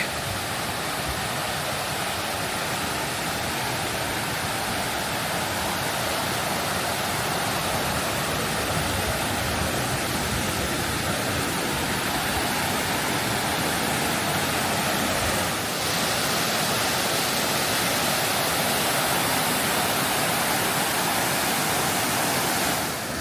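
Steady, loud rushing roar of Muddy Creek Falls in Blackwater Falls State Park, West Virginia, continuous and unchanging throughout, with no voices or other sounds breaking through.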